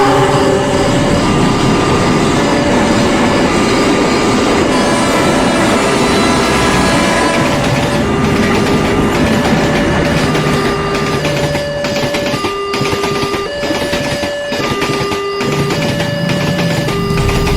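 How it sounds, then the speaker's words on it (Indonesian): Train rumbling through a closed railway level crossing, with a steady loud roar of wheels and a repeating two-tone warning signal ringing throughout, close by and continuous. "perlintasan kereta api yang menutup dengan kereta yang sebentar lagi akan melintas"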